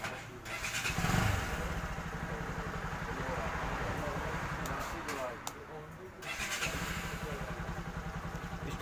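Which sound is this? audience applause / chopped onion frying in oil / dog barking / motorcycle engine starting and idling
motorcycle engine starting and idling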